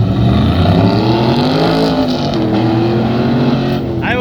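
A pro touring truck racing on an autocross course, its engine loud and close, revving through the gears with rising and falling tones and a brief shift near the end.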